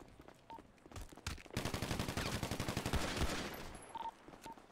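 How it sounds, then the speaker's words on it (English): Rapid automatic gunfire from a video game roleplay bursts out in a dense sustained volley lasting a few seconds, preceded and followed by scattered single shots and game sound effects, with no talking. "Who's shooting down there?"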